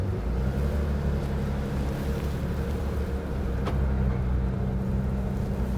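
A Porsche GT3 RS on the move, its steady engine and road drone filling the cabin at a constant level throughout, with no speech.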